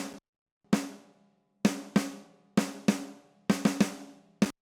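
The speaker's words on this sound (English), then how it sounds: "This is my first snare." Sampled custom snare drum played as a series of sharp, close hits with short ringing tails, spaced unevenly with a few quick doubles, alone and dry.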